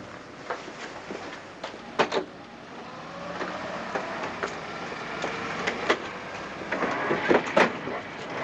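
Steady rattling rumble of a train rolling along rails, with scattered clicks and clacks throughout and a few sharper knocks.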